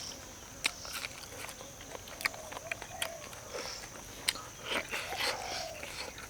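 Someone chews tough, grilled cow face skin, a Shan-style dish, with soft, irregular crunches and sticky bites against a faint background hiss. The chewing is quiet and up close.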